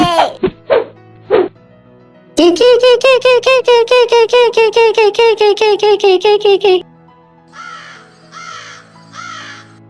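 A cartoon crow caws in a fast run of about twenty loud, even squawks, preceded by a few sharp calls and followed by quieter squeaky cries.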